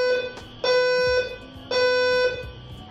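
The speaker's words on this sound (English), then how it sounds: "I've been listening to the fire alarm testing all day." An alarm undergoing testing sounds in two loud, harmonic buzzing blasts about a second apart, each sustained and then cut off, with no talk over it.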